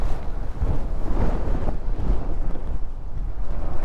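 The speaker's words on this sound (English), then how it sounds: "I cannot believe how windy it is." Strong gusty wind buffets the microphone at Cheyenne Mountain State Park near a campground restroom, a loud rumbling roar with uneven surges throughout and no voices.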